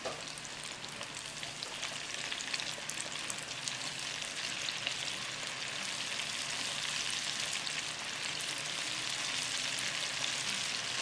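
Popcorn fish bites frying in hot oil, a steady, even crackling sizzle that stays fairly quiet and unbroken throughout, with no speech.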